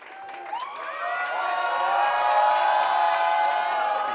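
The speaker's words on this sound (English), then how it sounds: "The crowd loves it." Arena crowd cheering and whooping after a submission win at an Army combatives competition, swelling from scattered shouts into a sustained loud roar of many voices.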